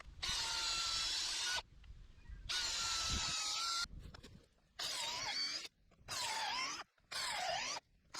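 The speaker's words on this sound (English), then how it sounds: "we use a cordless drill with a 12 millimeter drill bit" A cordless drill with a 12 mm bit boring into a tree stump for mushroom inoculation, loud whining bursts of drilling separated by short pauses, close up.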